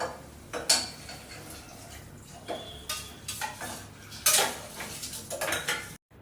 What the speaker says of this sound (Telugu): ఇప్పుడైతే రైస్ వేసుకోవాలి